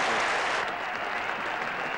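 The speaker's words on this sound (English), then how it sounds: "The England players come out to applaud what really has got to be a moment here of cricket" Crowd applauding at a cricket match at Headingley, a dense steady wash of clapping from a large crowd, loud and continuous with no voices on top.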